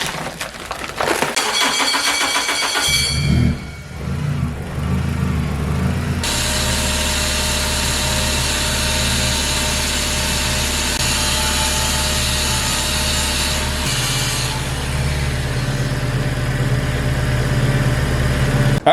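A Honda K24 engine in an EP3 car runs close and loud, with a steady rumbling idle that shifts in pitch partway through and carries on without speech.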